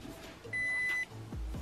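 A Ford Qi wireless phone charging kit in a Focus RS gives a single short, clear electronic beep as a Galaxy S8 starts charging, over a faint car interior hum.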